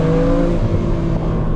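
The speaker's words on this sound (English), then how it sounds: "this exhaust is just everything" A BMW Z4 M Coupe's exhaust roars loudly up close, a deep throaty engine note that rises and then settles into a steady drone.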